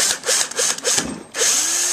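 A power drill bores holes into a piston, whining in loud bursts that stop and restart, with short mechanical clicks between runs and a final sustained spin.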